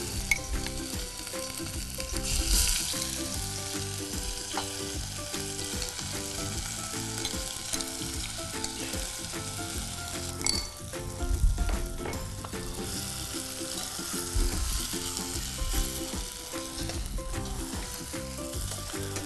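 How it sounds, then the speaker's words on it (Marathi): Green pea paste sautés in leftover oil in a pan for matar ka nimona, giving a steady broadband sizzle with occasional stirring scrapes, close and continuous throughout without any talk. "आता ह्या उरलेल्या तेलामध्ये मी ही जी पेस्ट आपण मटाराची केली होती ती मटाराची पेस्ट मी याच्यामध्ये आता ॲड करणार आहे आणि त्या मटाराच्या पेस्टला मी परतवून घेणार आहे"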